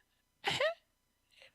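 A person's sharp, breathy intake builds into a sneeze that stalls and fails to come out, one close burst followed by a quieter trailing breath.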